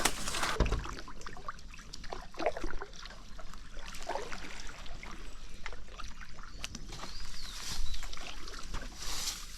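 A stand-up paddleboard moves along the reedy Verknė river, with soft rhythmic paddle strokes, splashes and water trickles close by against a quiet outdoor background.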